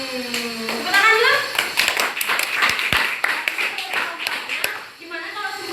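Classroom audience of nursing students clapping in a burst of irregular, close hand claps mixed with taps and shuffling, with a few voices and children's chatter over it before the claps fade out.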